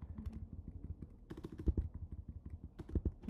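A computer keyboard clatters with fast irregular key clicks, close and fairly loud, in bursts with brief pauses, with no speech.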